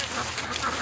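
A pet duck quacking at a lake, a short raspy call close by against steady outdoor noise.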